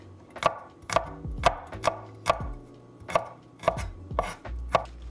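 A knife chops chives into inch-long pieces on a cutting board, about ten sharp, evenly spaced knocks, close and crisp, with no talking.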